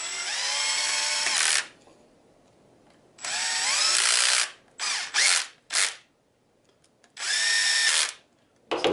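A cordless power drill set to a low clutch drives screws into a plastic 3D-printer fan shroud in several whirring bursts, the last few short and stuttering as the clutch ratchets.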